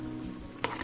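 Sautéed seasoning hits a pot of cooking beans with a short, sharp sizzle burst near the end, rising briefly above a steady low kitchen hum.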